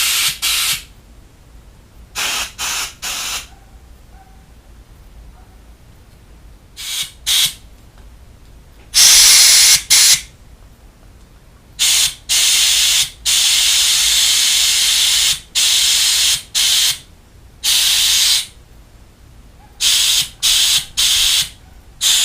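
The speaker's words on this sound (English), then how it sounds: "I just went to both the carburetors, and just now that I cleaned them, I'm gonna blow them out." Compressed air blasts through freshly cleaned carburetors from a Mercury 50 HP outboard, a series of loud, sharp hissing bursts of varying length separated by quiet gaps, close up.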